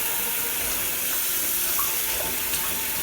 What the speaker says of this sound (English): I'm just going to rinse this off now